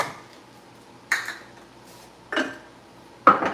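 A spoon scrapes and clinks against a pan three times at roughly one-second intervals, close and fairly crisp, while sugar is stirred in on a home stove.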